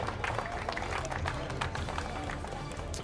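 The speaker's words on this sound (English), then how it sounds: "Give them one more round of applause, guys." Crowd at a kart race podium ceremony applauding the finishers, a faint, steady wash of many hands clapping heard from a distance with crowd murmur mixed in.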